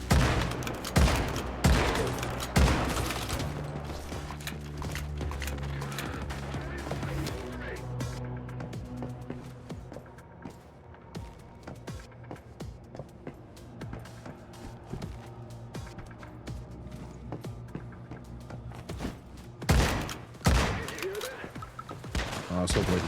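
Gunfire in the survival shooter Once Human comes in loud, dense bursts of rapid shots, then thins to scattered cracks before swelling again near the end. A voice speaks in places beneath the shots.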